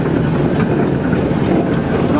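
A Burrell gold medal steam traction engine rolls past at a steam and vintage fair, giving a loud, steady, close rumble with a faint rattling texture.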